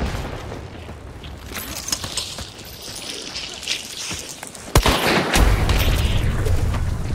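Video game gunfire: scattered sharp shots crack over background noise, then a loud boom near the end is followed by a sustained heavy rumble.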